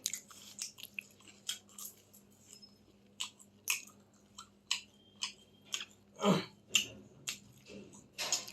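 Someone close up chewing kuli pitha, a Bengali winter rice cake, with a steady series of soft crunchy bites and mouth sounds at a slow rhythm, quiet with a faint background hum and no talking.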